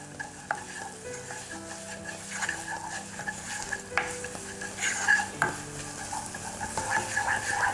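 Spices being stirred into a sizzling sambusa filling in a pan, with steady frying crackle and repeated scraping and clinks of a spoon against the pan, close and continuous with no talk.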